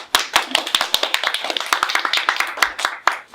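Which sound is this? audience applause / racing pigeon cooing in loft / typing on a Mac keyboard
audience applause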